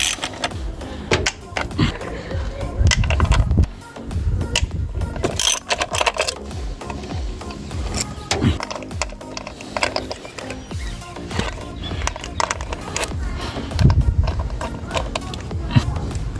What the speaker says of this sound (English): we're going to undo these bolts that are holding them down, and then we're going to pop them off